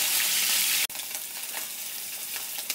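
Tilapia fish pieces frying in hot oil in a pan, flipped over to cook the second side: a steady, close, dense sizzle broken once by a sharp momentary click and dropout, then sizzling on.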